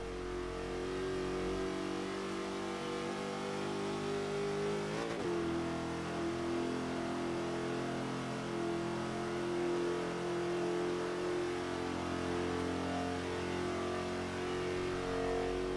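A Chevy Nova race car in Forza 5 holds a steady, loud engine roar throughout a lap at the Indianapolis GP circuit, with a brief pitch shift midway as it shifts gears, no talk over it.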